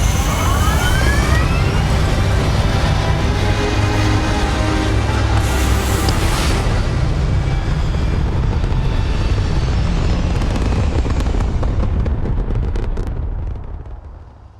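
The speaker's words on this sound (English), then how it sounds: "We have liftoff." A spaceship lifting off in the video game Starfield roars with a loud, steady, broadband engine rumble that holds for many seconds with a rising whine near the start, then cuts away at the end.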